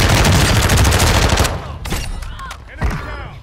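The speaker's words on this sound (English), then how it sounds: "careful, they're shooting back" Loud, rapid automatic gunfire in a shooter video game, a dense burst lasting over a second, followed by a few scattered, fainter shots and thuds.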